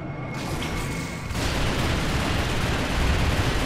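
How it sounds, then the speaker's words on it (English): Video game gunfire in Champions Online erupts as a dense, continuous burst of loud shots that swells after a brief quieter start and holds steady throughout. "He's gonna shoot me now."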